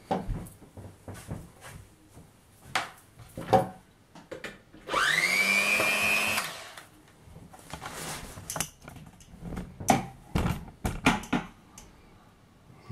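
A SUPRA MXS 420 hand mixer is switched on and whirs steadily for about a second and a half, a close electric motor whine with a rising pitch, set between scattered clatter and handling noises.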